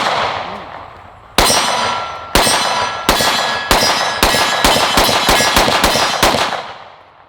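Rapid string of about ten close, sharp gunshots from an H&K CC9 compact 9mm pistol, each crack ringing out with a metallic clang, shots accelerating slightly, no talking.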